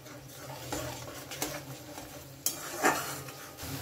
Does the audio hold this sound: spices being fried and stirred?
yes